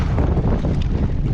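Strong wind at sea buffets the microphone during kayak fishing, a steady, loud, close rumbling roar with no talk.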